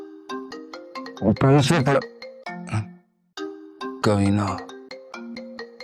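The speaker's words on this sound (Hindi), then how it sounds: "अपना फोन उठा ले भाई, या साइलेंट कर दे इसे यार" A mobile phone ringtone plays loudly nearby in repeating melodic phrases, with a couple of voices cutting in over it.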